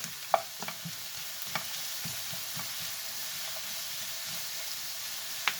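Peppers sautéing in butter in a pan, with onions already cooked in, giving a steady close sizzle under light stirring clicks throughout.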